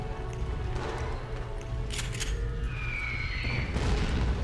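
Bombs explode in the World War II shooter game Enemy Front, a few dull booming bursts and crackles rising over a low rumbling background, with no talking.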